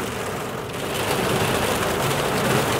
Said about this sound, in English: Wow! Torrential rain.